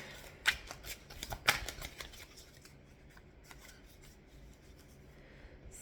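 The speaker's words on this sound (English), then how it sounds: "let's get one more card" Tarot cards being shuffled by hand, a quick burst of crisp riffling and slapping at the start, then softer sliding and flicking as a card is drawn, close and quiet, no talking.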